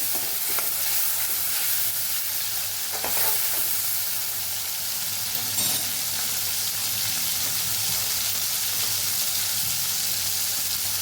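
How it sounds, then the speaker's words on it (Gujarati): Two chopped tomatoes sauté in a pan, a steady broadband sizzle with scraping stirs now and then, fairly close and even throughout. "અહીં આપણે બે ટમેટા સુધારેલા ઉમેરી દઈશું એને સરસ આપણે સાતરી લેવાના છે"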